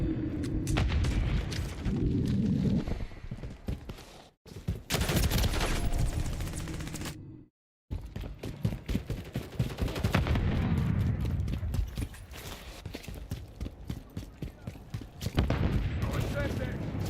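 Rapid automatic gunfire in Call of Duty Modern Warfare III multiplayer on the Tokyo map, loud bursts and booms with brief gaps, with a player talking over the shooting.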